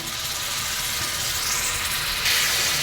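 Ginger and garlic paste frying in hot oil with onions and bay leaves gives a constant loud hiss that swells a little toward the end, with no speech.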